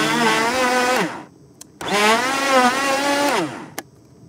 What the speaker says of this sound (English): put the blender on